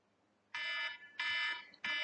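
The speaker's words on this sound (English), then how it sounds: "Sorry, my alarm's going off now." An alarm goes off in three loud, steady electronic bursts of about half a second each, separated by short gaps, heard alone with no talking.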